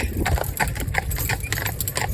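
Hooves of a Friesian stallion being trained to drive clip-clop in a steady, fairly close rhythm, a string of distinct strikes with no talking.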